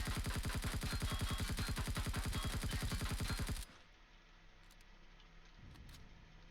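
Explosions in a space-exploration video game, heard as a loud, dense burst of rapid rumbling blasts that runs for several seconds, then cuts off abruptly to a quiet low ambience.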